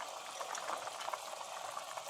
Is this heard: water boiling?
yes